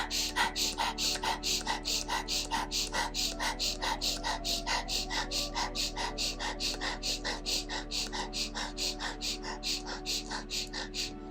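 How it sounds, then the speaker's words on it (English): Quick, rhythmic breaths drawn in through the nose repeat steadily and close during a breathwork and meditation session, about two dozen sharp sniffing inhalations with no pause and no one speaking. "So breathing in through the nose."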